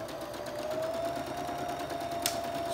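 Sewing machine stitching across water soluble stabilizer while making batik lace, a steady close whirring hum that runs without a break the whole time, with a short sharp click near the end and no talking.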